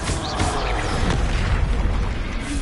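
The Confringo blasting spell goes off in Hogwarts Legacy with a heavy, booming explosion that rumbles for a couple of seconds, loud and close, with no speech over it.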